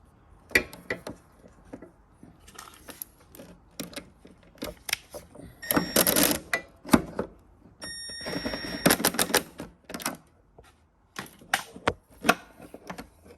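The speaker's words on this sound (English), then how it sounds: "put a wrench on this side to hold this in place, and then tighten up the bolt on the other side." A wrench tightens a bolt on a Toro TimeMaster mower during a belt and pulley job, giving close bursts of sharp ratcheting clicks separated by short pauses and softer metallic handling.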